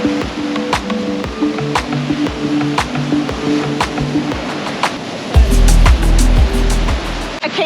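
Rough surf at a beach in Phuket gives loud, continuous rushing and churning water, close by, with a heavy crashing surge late on and scattered splashy hits throughout.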